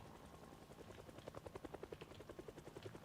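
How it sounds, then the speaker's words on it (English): A helicopter passes overhead in the video game Project Zomboid, its rotor a steady, rapid thumping chop that grows more distinct midway and keeps going, moderately loud with no talk. "Little helicopter up above."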